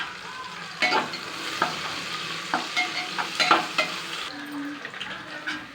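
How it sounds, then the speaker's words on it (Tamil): Chopped onions frying in oil in a pressure cooker for Ambur biryani, with steady sizzling and a spoon scraping and stirring in irregular bursts. Close and moderately loud, no voices. "வெங்காயம் நல்லா வணங்கிருச்சு"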